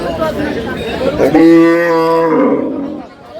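A cow with her calf at a rural cattle market lets out one long, drawn-out moo lasting about a second in the middle, close and loud, over a steady bed of crowd chatter and talk.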